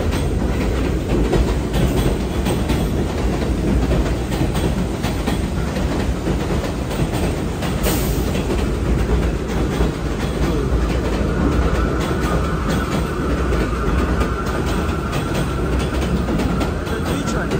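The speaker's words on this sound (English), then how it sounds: "It's a D train right there." A New York subway D train in Brooklyn passes close by in heavy rain, a loud, continuous rumble of wheels and cars with clattering rail noise that holds steady throughout.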